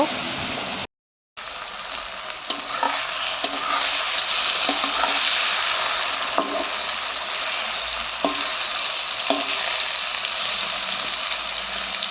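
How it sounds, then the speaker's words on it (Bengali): Pieces of olkora frying in hot oil with a steady, close sizzle and occasional stirring scrapes throughout. "এদিকে এবার এই ওলকোড়াগুলো আমি একটু তেলের মধ্যে ভালোভাবে ভেজে নেব"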